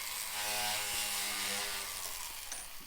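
A hardened steel burnisher is pressed down against a spinning polishing wheel, giving a short, faint, steady whirring grind with a tonal hum from the motor.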